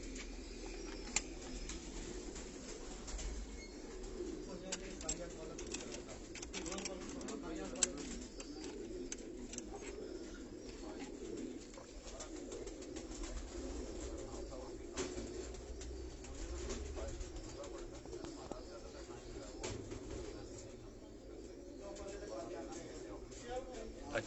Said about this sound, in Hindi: बहुत तादाद में ये हाजी साहब के पास ये कबूतर जो हैं